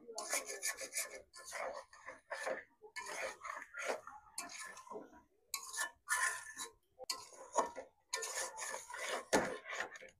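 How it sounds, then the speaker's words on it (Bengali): Scraping, rasping stir of Pangas fish head, taro stolons and spices in a pan, repeated strokes in short bursts with brief pauses, close and fairly loud, no talk. "এখন মাছের মাথা, লতি, মশলা একসাথে আবার একটু ভালোভাবে লাড়িয়ে কষিয়ে নেব।"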